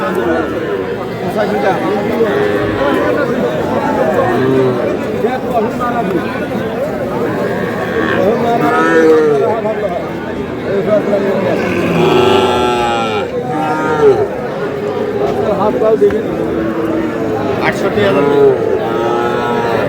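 Young bull calves moo repeatedly at a busy cattle market in Cumilla, their calls rising over constant nearby talk and crowd chatter as buyers and sellers bargain.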